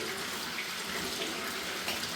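Breadfruit rinsed under steady running tap water, a continuous close hiss and splash that holds evenly throughout with no voices.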